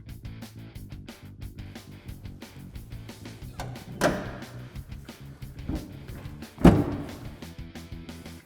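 Hood of a Prerunner truck slams shut once, a loud solid thud over an Air Raid air box fitted with a rubber seal, followed by a second softer knock, all against a busy background of music-like ambience.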